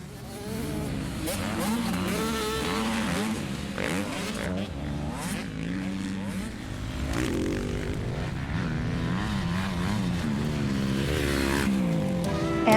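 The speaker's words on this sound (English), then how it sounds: "where you can find miles and miles and miles of sand dunes to ride your ATVs" ATV engines buzz and rev across the Oregon Dunes sand, a steady layered motor drone with rising and falling pitch sweeps as machines pass at moderate distance, continuous for the whole stretch.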